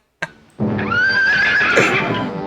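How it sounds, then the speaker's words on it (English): Cartoon horse whinny from a 1945 Woody Woodpecker short, a long, loud wavering neigh after a brief thump, sounding alone without talk. "He turned into a horse."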